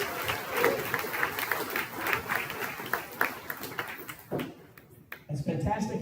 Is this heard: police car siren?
no